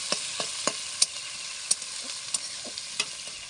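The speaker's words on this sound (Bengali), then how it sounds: "চিড়ে চিড়ে রাখা কাঁচা লঙ্কা পেঁয়াজগুলো ভালো করে লাল লাল করে ভাজতে হবে" Sliced green chillies and onions fry in a pan for chilli paneer, giving a steady close sizzle broken by sharp spoon scrapes and clicks every half second or so.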